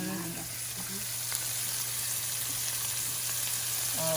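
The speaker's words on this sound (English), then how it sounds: "Oh, look at that sizzle" Anchovy pieces sizzle and crackle steadily in a hot frying pan as a sauce is cooked, a continuous close hiss with small pops throughout.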